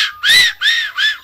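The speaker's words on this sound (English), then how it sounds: "it's basically a tenor field whistle with a little hooter on the side of it" A plastic fox call, a tenor field whistle with a small hooter on its side, gives three short, bright whistle blasts in quick succession, loud and close.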